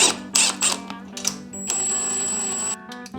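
Ratchet wrench loosening the shock absorber nut on a used Honda Super Cub motorcycle: a few quick clicking bursts, then a steady mechanical whir with a high whine, close and fairly loud, no talk.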